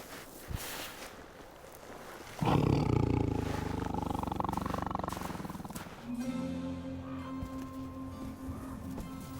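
A Siberian tiger gives a loud, deep, sustained roar that erupts after a quiet, rustling start, then shifts into a rumbling, tonal growl that carries on steadily to the end.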